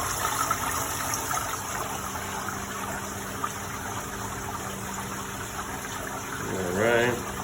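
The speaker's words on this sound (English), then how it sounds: "it's just recycling the water there, cleaning it, descaling it." A Hoshizaki KM-901 ice maker recirculates water through its pump during a descaling clean, giving a steady, fairly loud wash of running water and pump hum throughout, with a brief louder gurgling surge near the end.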